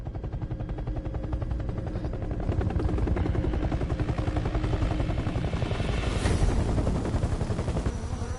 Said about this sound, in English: It's a big gunship, man.